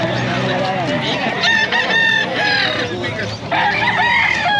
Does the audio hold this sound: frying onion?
no